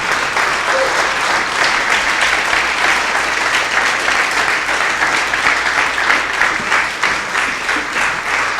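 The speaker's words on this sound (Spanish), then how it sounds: "Denle un aplauso al Señor, aleluya. Fuerte ese aplauso." A church congregation applauds loudly during a worship service; dense, steady clapping fills the whole stretch at close range, with no let-up and no clear speech on top.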